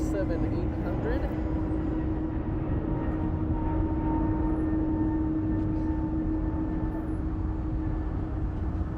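A WestJet Boeing 737-800 airliner on approach to LAX makes a continuous, loud, broad jet roar with a steady low drone that holds throughout.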